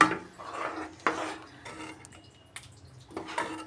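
Prawn curry being served into a serving bowl brings a few scattered metallic clinks and scrapes of a spoon against cookware, close and fairly soft, separated by quiet gaps.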